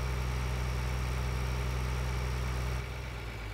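A tractor engine idles steadily in Farming Simulator 2013, a constant low droning hum with a slight shift in tone near the end, with no talking.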